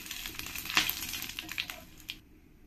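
Whole spices, cumin, three dried chillies and three bay leaves fry in hot oil with crisp crackles and small pops that fade toward the end, with no talk.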